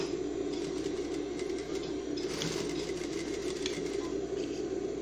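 A sewing machine stitches a short stretch on the back pocket of dress trousers, a steady, fast mechanical whir running continuously at moderate, close level with no talk.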